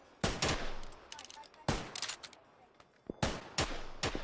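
Video game gunfire rings out in several sharp bursts, with clusters of shots spaced irregularly and a few single pops between them, loud and close with no talking over it.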